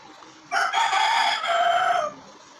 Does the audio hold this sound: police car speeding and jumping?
no